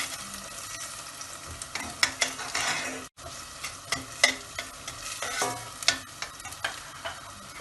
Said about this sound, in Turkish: Arkasından salçamızı ekliyoruz. Bunu da bir güzel kavuruyoruz.